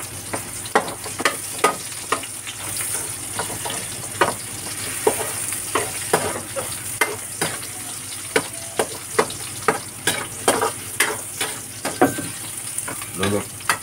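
Onion frying in a small amount of cooking oil, a steady close sizzle broken by repeated sharp scrapes and clacks of stirring at an irregular rhythm, with no voices.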